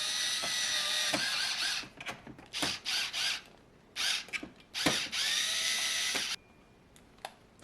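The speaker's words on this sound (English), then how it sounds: "I'm just going to screw the in-out panel back on" Cordless power drill driving screws into the in-out panel of a Chauvet Colorstrip light bar, several bursts of whirring with brief ratcheting pauses between them, close and loud, ending in quiet with a few small clicks.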